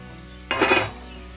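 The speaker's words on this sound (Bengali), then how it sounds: "এবার আমি যে আলু পেঁয়াজগুলিকে ভেজে রেখেছিলাম ওগুলিকে এর মধ্যে দিয়ে দেব" Fried potatoes and onions tipped into a pan of cooked eggs, a single brief clatter and scrape of food and utensil against the pan, close and alone in a quiet kitchen.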